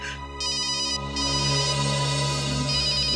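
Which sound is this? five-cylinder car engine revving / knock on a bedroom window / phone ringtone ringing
phone ringtone ringing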